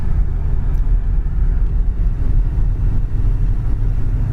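A 1979 Lincoln cruising down the road at around 35 mph, giving a steady, close low-frequency engine and road rumble with tire roar, continuous and even throughout, with no voices.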